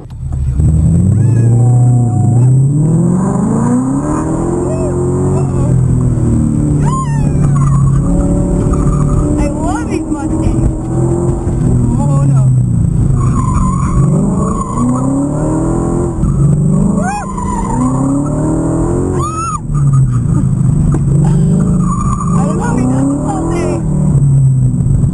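Ford car on a hot lap at the SEMA 2012 show, a loud engine rising and falling through repeated revving and acceleration, with tire squeal and people talking over it.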